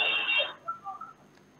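Telephone ringing tone while dialing a district official's office, a single short electronic ring burst followed by faint beeps, heard alone and fairly quiet.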